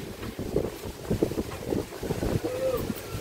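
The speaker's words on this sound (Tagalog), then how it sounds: "so napakalakas pa rin ang hangin" Strong coastal wind buffets the microphone in rough gusts after a storm at Bucana, Philippines, with waves churning in the background and no clear talk.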